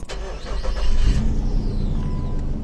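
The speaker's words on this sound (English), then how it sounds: "Now let's go start the vehicle." A 2001 Nissan Frontier pickup engine cranks briefly, catches and settles into a loud, close idle rumble, with no voices.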